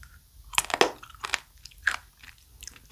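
Raw warty sea squirt (mideoduk) sashimi crunched between the teeth, several sharp close crunches and chewing bites in quick uneven bursts, with no talking.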